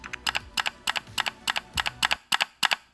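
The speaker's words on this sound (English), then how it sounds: "take care of that little clickety click click clack click sound" Computer keyboard typing clicks, rapid irregular bursts of sharp key taps over a low rumbling background, close and continuous for a few seconds.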